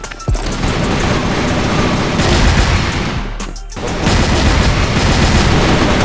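Video game firefight with grenade blasts and gunfire, a dense, loud, continuous barrage of shots and booms that dips briefly near the middle before surging back.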